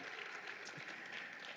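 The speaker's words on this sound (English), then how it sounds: "Can we get another round of applause for that wonderful team?" A school board meeting audience gives a round of applause for an elementary school math team; soft, distant clapping sounds faint and brief.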